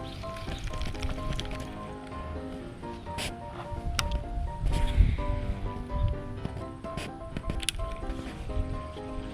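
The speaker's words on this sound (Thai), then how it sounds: "ต่อตอนนี้ลมอะลมมันอุปสรรคคือลมนะครับ" Wind blows outdoors at a roadside fishing spot while a new reel, rod and line are tested on a Texas rig, with a continuous gusty rumble and rustle that swells and eases.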